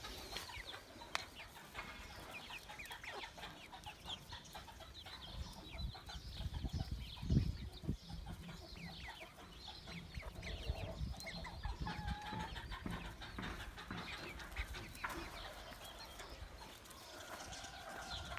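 Chickens cluck in a backyard coop holding chicks, a rooster and a black hen, scattered clucks and calls at middle distance, with some scuffling and thumps around the middle.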